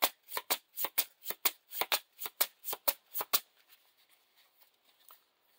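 Cards for a Lord of the Rings living card game shuffled in a quick run of about a dozen crisp riffling bursts, close and clear, then trailing off into faint shuffling and near silence with no talk.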